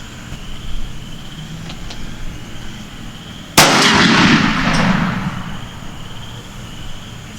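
A light Tristar shotgun fires a single loud, close blast while patterning a turkey load, followed by a rolling echo that fades over a few seconds against quiet outdoor background.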